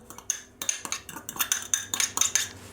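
Chopped onions and finely chopped flat parsley being stirred for potato and tuna fritters, a utensil scraping and clinking against a bowl in quick irregular strokes, close and clear with no talking.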